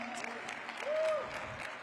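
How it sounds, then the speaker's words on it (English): An audience at a school awards ceremony honoring educators claps for the city council members in a short burst of dense, fairly close applause, with a voice briefly audible over it. "Give them a round of applause."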